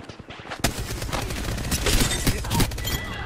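Rapid gunfire rattles in an Apex Legends match, with bursts of close, loud shots stacking up into sustained automatic fire over a few seconds.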